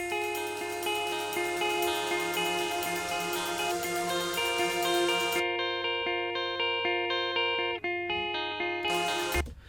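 Clean electric guitar run through an Overloud TH-U amp simulator with a Slate Digital cabinet impulse response, playing sustained, ringing chords with a shimmering, slightly spacious tone, loud and steady for the whole stretch with no voice.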